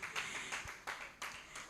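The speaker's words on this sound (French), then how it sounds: "Est-ce qu'on peut l'applaudir, s'il vous plaît?" Quiet audience applause at a vocal coaching final and certificate ceremony, a thin scattering of hands clapping in soft bursts that swell and fade in an uneven rhythm.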